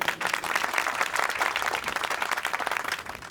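A crowd breaks into sustained applause, dense rapid clapping holding steady and fairly loud throughout, with no talk over it.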